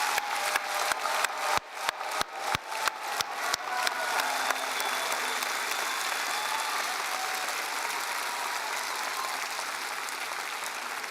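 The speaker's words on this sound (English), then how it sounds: "can we all give a big round of applause to the graduating class of 2026?" An audience at a Faculty of Arts graduation ceremony gives the graduating class of 2026 sustained applause, starting with a few sharp individual claps that swell into a continuous, even roar of clapping throughout.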